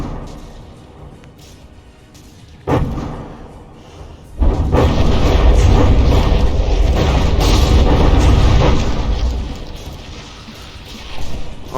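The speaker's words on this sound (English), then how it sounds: "Divine Offering is unloading its shells" Battleship cannon shells and high-explosive rounds pound in the naval combat game From the Depths, a lone boom followed by a loud, sustained roar of overlapping blasts and crashes that fades slightly near the end.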